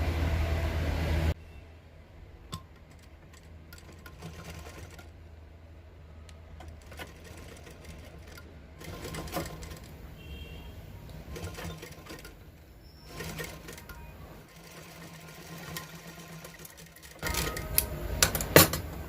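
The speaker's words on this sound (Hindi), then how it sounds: "तो यहाँ से सिलाई स्टार्ट करेंगे।" Sewing machine stitching a coat collar, running in bursts of steady mechanical whirring with brief pauses between runs, close and moderately loud.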